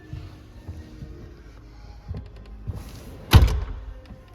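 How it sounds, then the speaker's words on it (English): A second-row seat slides forward inside a Land Rover Defender 130, giving soft scraping movements, then a single sharp thunk as it locks into place near the end. "I will be sliding the second row forward to give me more clearance"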